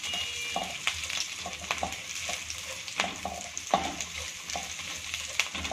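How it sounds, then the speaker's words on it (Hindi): Garlic sautés in hot oil in a pan while being stirred, giving a steady soft sizzle broken by sharp scraping and tapping strokes every second or so, close and moderately loud, with no talking. "लहसुन थोड़ा सा सोते कर लेंगे।"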